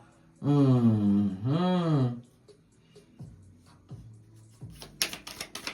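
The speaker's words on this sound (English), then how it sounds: "One final shuffle." Tarot cards are shuffled by hand in a quick final riffle of crisp, rapid clicks near the end. Earlier, a voice gives a drawn-out tonal sound, followed by a few soft low thuds.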